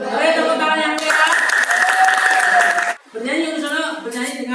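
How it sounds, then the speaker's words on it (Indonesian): Lively applause from an audience at an Indonesian academic coaching session, a dense burst of clapping rising between speech and breaking off abruptly, with a talking voice before and after. "Boleh tepuk tangan yang meriah"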